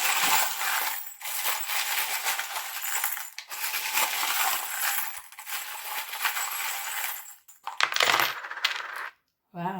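Small metal charms pour out and clatter onto a surface during a tarot reading, a dense continuous jingling rattle lasting several seconds with brief pauses, ending in a few scattered clinks.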